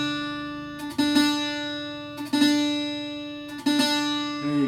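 Puerto Rican cuatro second course strings tuned in unison to D4, plucked three times at even intervals, each bright note ringing and decaying, close and clear with no talk.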